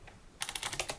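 A quick run of about seven key presses on a computer keyboard follows a brief quiet moment, close and soft, with an even, rapid rhythm.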